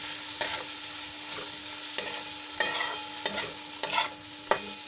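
A spoon stirs masala with salt in a frying pan, the spices sautéing alongside softened onion, potato and tomato: a quiet steady sizzle broken by about six distinct scraping stirs, close and without voices.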